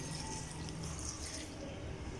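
Water poured into a pan of salted jackfruit pieces for cooking, a steady close splashing rush that holds for about two seconds without talk.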